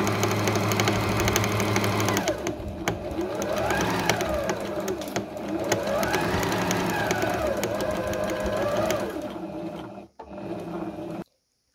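A sewing machine stitches the back seam of a jacket with a rapid mechanical whir. It runs in continuous bursts that rise and fall in speed, then stops abruptly near the end.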